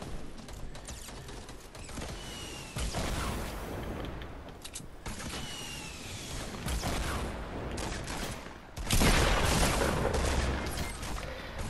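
Dense video game gunfire crackles in bursts across the whole stretch, with loud volleys near the start and a heavier, louder barrage toward the end, mixed with mechanical clatter and no speech.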